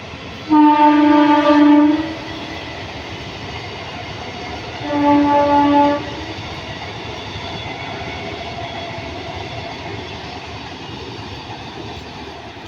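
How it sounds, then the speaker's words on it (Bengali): A train on the rail line just behind a rural health centre near Madhabpur station sounds two long, loud horn blasts, with a steady rolling rumble continuing after them. "এই হেলথ সেন্টারের ঠিক পিছনেই রেল লাইন আর এখন ট্রেন আসছে"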